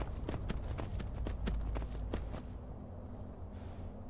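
Horse hooves clip-clop at a steady walking rhythm in Skyrim, a dozen or so sharp, fairly close strikes over the first half that break off, leaving only a low ambient hum behind.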